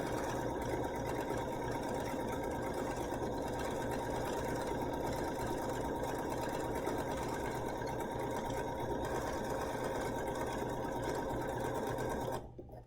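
A BERNINA sewing machine runs steadily while sewing triple stitches, a continuous even whir that holds for about twelve seconds before stopping abruptly.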